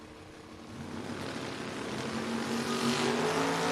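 An S10 and a Camaro drag racing down the strip, engines building from a moderate rumble into a louder, rising roar with a strengthening higher tone toward the end, no voices heard.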